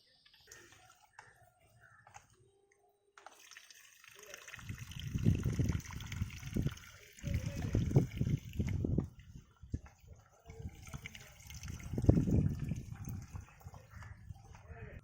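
Homemade model boat tested in water, with a faint hum at first, then irregular splashing and sloshing of water rising and falling in bursts, near and moderately loud.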